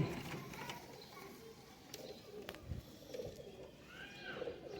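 Fancy Khatang pigeons coo softly in a loft, low throaty murmurs repeating over a dense background of bird chatter and faint clicks, fairly close, with no talking.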